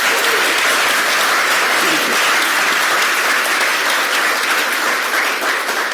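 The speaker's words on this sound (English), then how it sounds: "So let's give a big applause for them." Loud, dense audience applause fills the whole stretch at a steady level, many hands clapping together with no break, at a conversation event with Bangladesh's Chief Adviser in Asia.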